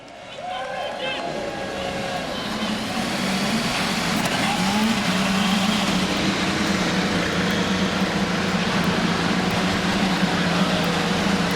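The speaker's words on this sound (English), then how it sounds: "Drivers, start your engines." Field of Indy 500 race car engines firing up before the race, a loud continuous roar and drone building over the first few seconds and then holding steady, with crowd ambience and a voice talking underneath.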